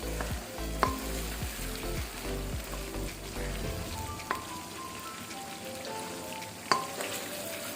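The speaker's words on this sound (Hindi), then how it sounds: "चिकन को अच्छी तरह से भूने, इसका कलर चेंज हो जाए" Chicken pieces for pulao frying in a pan, a steady loud sizzle and crackle running throughout, with a few sharp clinks of a utensil against the pan.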